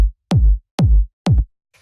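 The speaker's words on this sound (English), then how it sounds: "I can get the punch of this kick with the fullness of that kick" Two layered kick drums in a minimal house beat, three punchy, full low thumps at an even pace with decaying tails, close and loud, followed by a faint short tick.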